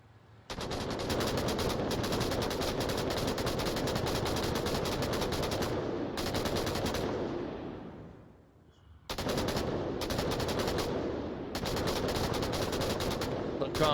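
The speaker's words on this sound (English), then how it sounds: "With that PKM, again laying down more suppressive fire as WCO just slowly makes their way towards the objective" Long sustained bursts of PKM machine gun suppressive fire in the VR shooter Onward, loud and rapid with brief pauses between strings, as a commentator's voice runs faintly underneath.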